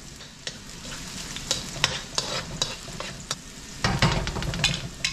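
Chopped garlic frying in hot oil in a pan for yaki soba, a steady sizzle with scraping stir strokes and clinks throughout, louder and busier toward the end.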